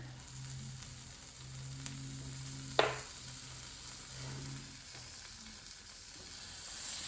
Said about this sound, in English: you can just let that cook down a little bit so you can get your cheese to melt